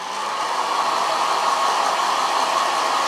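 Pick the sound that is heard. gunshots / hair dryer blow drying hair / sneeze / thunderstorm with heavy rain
hair dryer blow drying hair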